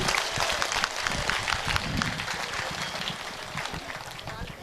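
An audience at a Bageshwar Dham religious gathering claps steadily and densely throughout, a sustained wash of applause with some crowd murmur.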